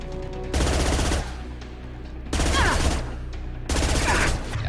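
Heavy pistol gunfire in Mass Effect 2 during combat, three loud, close volleys of rapid shots separated by short pauses, with game music humming underneath.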